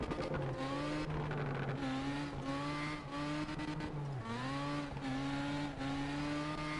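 Mazda RX-7 from a racing video game revving continuously, its engine tone rising and falling in repeated shifts across the clip, loud and steady with no talking.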